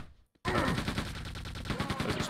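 Dense, continuous bursts of booming blasts and rapid gunfire-like cracks erupt after a brief quiet in Quake II, loud and sustained like a chaotic game battle.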